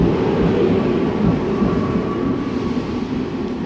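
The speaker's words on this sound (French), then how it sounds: "T'as vu le train belge partir." A Belgian passenger train pulls out of Lille Flandres station with a steady, loud rumble of wheels and traction hum and a faint high whine, continuous and close throughout.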